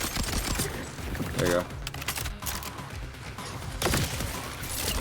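Hot Slugger shotgun from the video game Borderlands 4 firing a few loud blasts, one near the middle and another toward the end, over busy game noise while someone talks.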